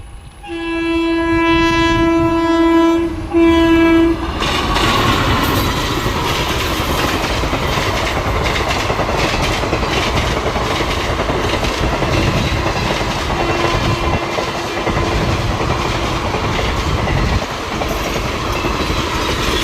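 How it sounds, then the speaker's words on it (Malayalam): A train rolls along a railway line near Kozhikode (Calicut), its horn sounding two long loud blasts before the steady roar and rattle of the passing wagons carry on close by, with no talk. "There is A train coming."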